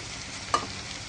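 A single short scrape as beans and vegetables are stirred in a small pan for pancit, one brief clack standing out against a steady low sizzle.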